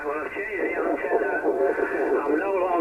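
A faint, band-limited voice talks over an HF amateur radio contact, thin and crackly, with steady background hiss beneath the transmission.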